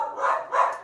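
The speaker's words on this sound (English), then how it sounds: "Those are both my dogs barking." Two dogs barking at home: two loud, close barks in quick succession, each a short rough burst.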